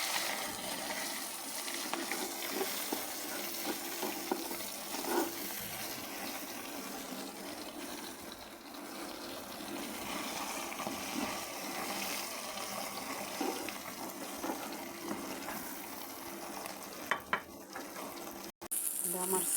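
Egg frying in a pan in a home kitchen, a steady broadband sizzle and crackle running throughout with small pops, close and fairly quiet, with faint clatter near the end.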